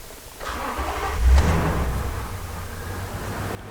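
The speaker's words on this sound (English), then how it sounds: "Let me get this out of here, start this car" A car engine cranks briefly and catches after a crank-no-start repair, settling into a steady, fairly loud idle rumble before cutting off abruptly.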